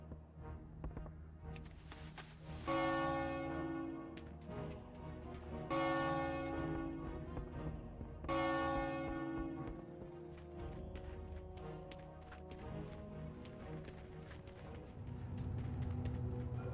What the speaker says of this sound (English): Go and ring the town hall bell so any survivors know to rally there.